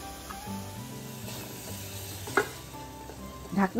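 Cauliflower florets are stirred and fried in a pan for a Bengali hilsa fish curry, giving a steady soft sizzle, with scraping stirs and a spatula clack near the end.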